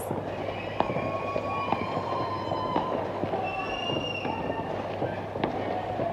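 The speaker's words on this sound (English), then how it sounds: "so many people are having fireworks" New Year fireworks going off across Portugal: scattered distant pops and bangs at irregular intervals over a continuous background rumble, with faint whistling tones.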